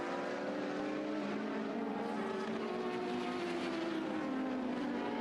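Engines of 1980s Formula 1 cars roar loud and sustained as the cars race and overtake through the narrow Druids Corner, with pitch shifting as they pass.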